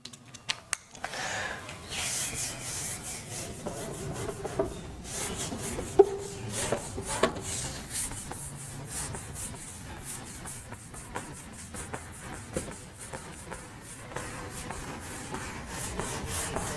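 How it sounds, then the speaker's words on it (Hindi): Steady dry rubbing of a duster or cloth across a classroom board during a Class 9 chemistry lecture, a continuous scraping swish lasting throughout at moderate, close level with a few small knocks and no talk. "इसको रब कर देता हूं।"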